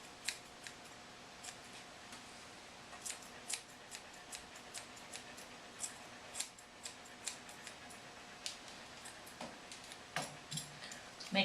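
Straight grooming shears trim the hair between an Australian Shepherd's toes, giving a steady run of quiet, crisp snips spaced about half a second apart, close to the ear, with a few louder cuts near the end.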